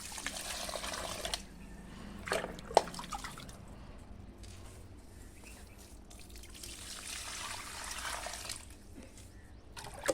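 Liquid fertilizer water being stirred and poured for rose plants, giving bursts of splashing and trickling liquid, drips between pours and a calmer middle stretch, all close by with no talk.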